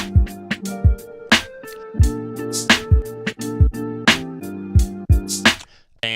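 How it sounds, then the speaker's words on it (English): A hip-hop beat loops with loose, swung drums, punchy kicks and snappy hits, over a quantized, chopped sample in choppy tonal stabs, loud and alone for about six seconds. "the full beat sounds like this."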